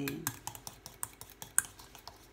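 Spoon stirring a donkey milk and cinnamon face cleanser mixture in a small bowl, a run of light clinking taps and scrapes at a steady rhythm, close and fairly quiet, with no talk.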